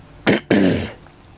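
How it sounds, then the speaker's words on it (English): A person clears their throat in two quick, harsh bursts, the second longer and trailing off, close and alone against a quiet background. "Clear my throat."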